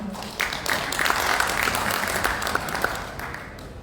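An audience applauds to welcome a speaker onto the stage at a coating technology conference, a steady burst of many hands clapping that holds at an even level for a few seconds.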